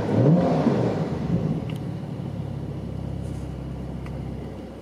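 2020 Porsche 911 Carrera S (992) revved with the exhaust valves open, heard from inside the car: a louder opening rasp that settles into a steady throaty rumble as the revs fall away.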